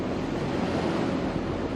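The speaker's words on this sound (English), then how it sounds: "and now we're riding right in the waves" A boat runs through lake waves, with water rushing against the hull and wind buffeting the microphone in a steady, moderately loud wash that carries no talking.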